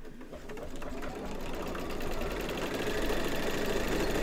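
An embroidery machine stitches a quilt block in the hoop with a rapid, even mechanical chatter that holds steady and grows slightly louder, running alone without any voices.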